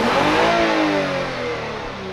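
A 2021 Lexus IS350 F Sport revs outside, its engine and exhaust giving a strong, smooth rising note that eases back slightly toward the end.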